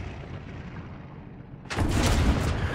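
A car blows up in Far Cry 6: after a low rumbling drone, a sudden loud booming blast erupts with crackling debris that keeps roaring to the end.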